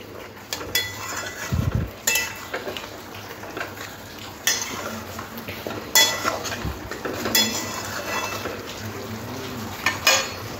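Tomato paste being stir-fried in a pan for a dhaba-style chicken curry, with a spoon scraping and clinking against the metal at irregular moments over a faint, steady sizzle, close and moderately quiet.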